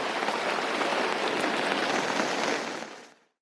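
Rain patters on a moored sailboat, a dense, even hiss of drops striking deck and water for about three seconds before cutting off abruptly into silence.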